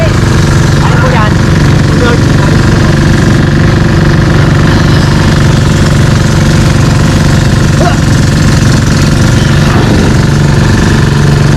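A fishing boat's engine runs loud and close in a steady rumbling chug that does not let up, with people's voices breaking in over the noise now and then.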